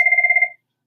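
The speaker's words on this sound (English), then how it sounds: "I'll just let my phone ring." Phone ringing: a single short, bright electronic trill with a fast warble, loud and close, cut off after about half a second and followed by silence.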